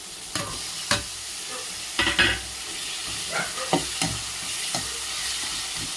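Tomatoes and onions sautéing in hot oil for okra tamarind kuzhambu, a steady sizzle with several distinct scraping stirs of a spoon against the pan, close and moderately loud, no talking.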